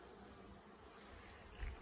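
Bees hum at an opened hive in a steady, faint, even buzz that holds throughout, with a small soft thump near the end.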